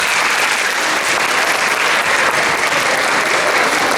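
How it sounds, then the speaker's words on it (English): Students applaud parents at a school 8th grade graduation ceremony, a dense, loud, sustained wash of clapping from many hands without pause. "I think maybe the students can give the parents a round of applause"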